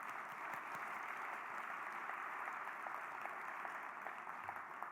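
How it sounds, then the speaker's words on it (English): At a Boston youth gala, an audience applauds in a soft, distant wash of clapping that holds evenly for a few seconds. "let's applaud that"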